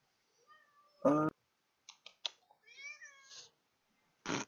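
A house cat meows several times in short separate calls, a loud one near the start, a few quick chirps and a drawn-out wavering meow mid-clip, then a final burst, close by in a quiet room.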